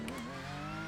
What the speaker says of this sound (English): Porsche is super loud in my ears right now